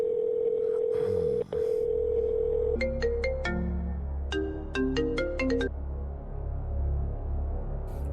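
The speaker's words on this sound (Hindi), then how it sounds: "भाई फोन आ रहा है।" A phone ringtone plays a melodic electronic tune in short bursts over a steady low hum, following a long sustained tone, with no talking.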